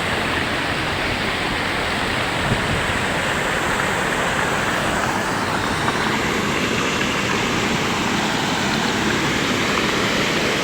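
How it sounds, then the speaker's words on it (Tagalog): Water from a river rushes over a mini dam at a tourist spot, a loud, steady broadband roar of flowing current that holds unchanged throughout with no voices. "Lakas ng tunog ng Agos"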